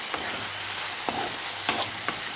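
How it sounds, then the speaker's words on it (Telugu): Amaranth greens and tomatoes, lightly salted, cooking down in a pan: a steady, even sizzle with a few sharp clinks of stirring scattered through, close and moderately quiet. "తోటకూర 2 టమాటాలు వేసి లైట్గా ఉప్పేసి మగ్గనిచ్చాను"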